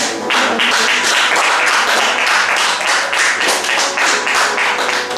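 A church congregation claps rhythmically and cheers in acclaim for the Lord during a French-language worship service, loud and dense, with a steady beat running through the whole stretch.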